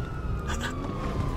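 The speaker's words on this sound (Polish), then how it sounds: "Jezus, policja jedzie, muszę wsiąść!" A police siren wails steadily in GTA 5, its tone gliding slowly downward and staying loud throughout, mixed with rumbling traffic and game noise.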